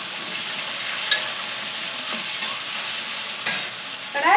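Large onion pieces fry in hot oil with curry leaves in a pan, making a loud, continuous sizzle, with a few scraping stirs near the end and no voices.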